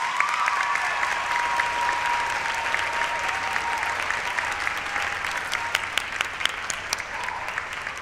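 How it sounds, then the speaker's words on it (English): An audience at a dual enrollment recognition ceremony gives a scholar steady, sustained applause, a dense wash of clapping with no pauses. "Please, another round of applause for our scholar."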